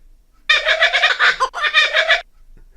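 A person imitates a kookaburra's laughing call, loud and close, in two rapid bursts of cackling, chuckling hoots about a second long each, followed by silence.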